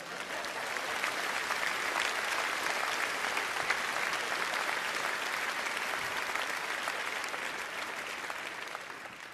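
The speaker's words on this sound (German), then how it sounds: "Ein Beifall für ihn, bitte." A hall audience at a German carnival session claps steadily for a new honorary senator, the applause even and sustained throughout with no voices over it.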